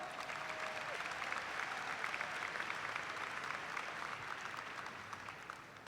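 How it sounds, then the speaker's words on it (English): Sustained applause from a large audience at the Murray State University May 2016 commencement ceremony, a dense steady clapping that fills the whole stretch at even strength and only eases slightly toward the end. "Let's give them another round of applause."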